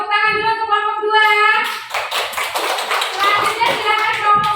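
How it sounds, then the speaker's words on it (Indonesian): A classroom applauds a student group. A voice speaks for about two seconds, then many hands clap together in a dense, lively burst that carries on to the end. "Silakan tepuk tangan dulu untuk kelompok 2."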